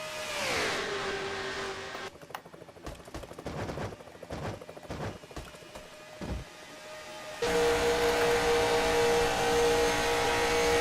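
Race cars lap Daytona in a racing video game, engines whining past with falling pitch, a stretch of sharp rapid clattering bursts, then a loud steady engine drone resuming near the end.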